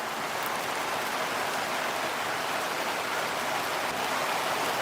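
Steady rain drums on a tin roof in a dense, unbroken wash of patter that stays constant for nearly five seconds, without any talking.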